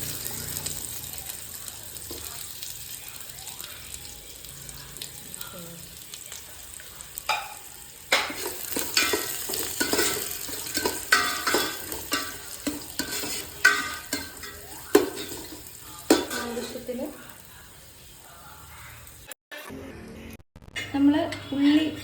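Onions fry in hot oil in a pan for biriyani, sizzling steadily while a spoon stirs and scrapes through them, with clinks of the pan and occasional talk.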